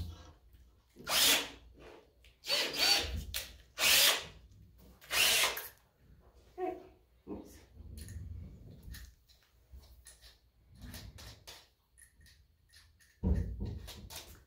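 A cordless power drill bores holes and drives screws while a dragonfly decoration is assembled at a Habitat for Humanity ReStore demonstration, coming in several loud, close bursts of whirring separated by pauses and handling noise.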